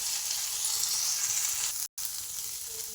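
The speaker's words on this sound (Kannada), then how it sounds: "ಬೆಳ್ಳುಳ್ಳಿ ಪೇಸ್ಟ್ ಒಳಗೆ ಹಾಕಿ ನಾನು ಫ್ರೈ ಮಾಡ್ಕೊಂತೀನಿ" A paste of garlic, curry leaves and coriander fries in hot oil with a loud, dense, continuous sizzle, close up, broken by one brief silent gap.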